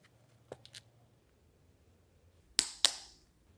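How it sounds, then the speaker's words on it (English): The magnetic closure on a Chanel Classic Belt Bag 22B snaps shut twice in quick succession with sharp clicks, preceded by faint softer handling taps in an otherwise quiet room. "I noticed that this has the upgraded magnetic closure"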